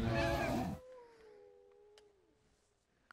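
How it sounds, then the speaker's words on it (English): A cat in the Minecraft game lets out a loud, drawn-out yowling meow that trails into a thin, wavering tone that fades, followed by quiet with a couple of faint clicks near the end. "I can hear the cat thing."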